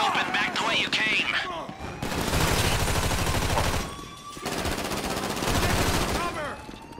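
Sustained automatic gunfire during a GTA Online Diamond Casino heist, heavy rapid bursts that swell and ease off over several seconds, with game characters shouting underneath.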